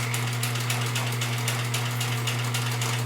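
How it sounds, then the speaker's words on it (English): A sewing machine stitches steadily over fabric while a face mask is being made. It gives a continuous, loud mechanical hum with a fast, even rhythmic clatter and no voices. "And we're sewing over that last bit of fabric."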